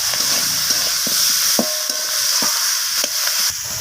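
Mixed vegetables (kohlrabi, radish, flat beans, brinjal, potato) sauté for fish-head chorchori, a loud, close, continuous sizzle with repeated spatula scrapes and knocks against the pan at an uneven rhythm.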